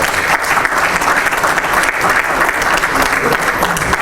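A live audience at a forum on African talent claps continuously, a dense, loud and even round of applause from a large crowd.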